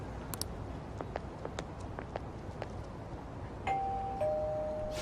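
Doorbell chime in Persona 5, a two-tone ding-dong ringing out clearly after quiet footstep-like taps, loud and alone with no talk.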